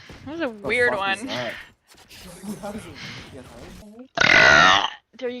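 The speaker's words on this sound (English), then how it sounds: "That burp's for you, buddy." A single loud, rasping burp near the end, coming after a stretch of people talking and laughing close by.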